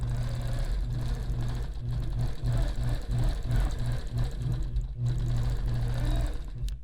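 A sewing machine stitches free-motion quilting across a tiny 1-inch retro quilt block set on point, its needle whirring in a steady fast run with brief stops and restarts, close and fairly loud.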